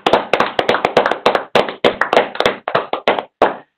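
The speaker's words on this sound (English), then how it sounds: "Applause." A small group claps in sharp, uneven bursts, the applause close and brief with short pauses between rounds of clapping.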